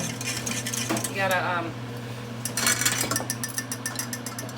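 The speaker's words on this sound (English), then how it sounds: "Oh, keep stirring it." Melted chocolate being stirred in a pot, with a metal utensil clinking and scraping against the pan in short bursts while a person speaks briefly over it.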